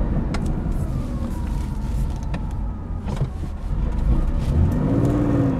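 A Porsche 911 2.4 T drives along, its engine a low, steady drone under road and cabin noise, with the pitch rising near the end as it pulls harder and no talk over it.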